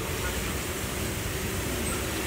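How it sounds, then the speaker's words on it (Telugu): A Rajahmundry to Bhimavaram MEMU passenger train running, heard from inside as a steady, loud rumble and rattle of wheels on track that continues unbroken with no talking. "ఫైనల్లీ గంటన్నర డిలేతో రాజమండ్రి నుంచి మన ట్రైన్ అయితే స్టార్ట్ అయింది"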